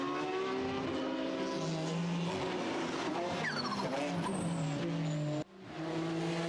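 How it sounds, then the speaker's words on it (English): A turbocharged four-cylinder TCR race car and a BMW twin-turbo inline-six race car sweep past at Circuit Zolder, engines roaring loud and close with rising and falling whines and a brief tyre squeal before an abrupt cut. "you can hear the turbo whistle on both the TCR car and the BMW twin turbo inline six in the BMW, turbocharged 4-cylinder engine in the TCR car"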